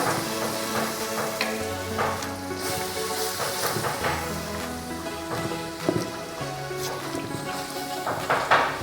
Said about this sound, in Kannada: ಇದು ಗ್ರೀನ್ ಪೇಸ್ಟ್ ಚೆನ್ನಾಗಿ ಫ್ರೈ ಆಗೋದು ವೆರಿ ಇಂಪಾರ್ಟೆಂಟ್.